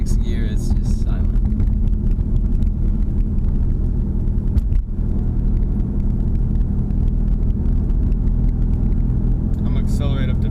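Inside a Ford Mustang EcoBoost cruising at about 45 mph, a low, steady exhaust drone and road rumble hold evenly throughout, quiet and smooth, with a brief dip midway and someone talking over it.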